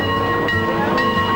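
The Mount Rainier Scenic Railroad tourist train rolls past loud and close, a steady rumble of wheels and cars with a faint sustained tone over it.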